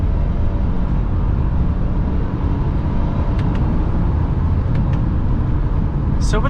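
Turbocharged 2018 Subaru Forester XT pulling hard out of a turn, a steady loud broadband engine and road roar filling the cabin throughout with no break.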